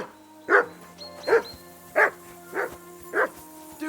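A dog barks in the medieval video game Kingdom Come Deliverance 2, five separate barks spaced roughly half a second to a second apart, fairly close and loud over a steady low background hum.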